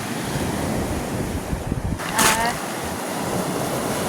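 Sea waves wash onto the shore at Shippersea Bay beach while steady wind buffets the microphone, with a louder surge of surf near the middle and a constant rough roar throughout.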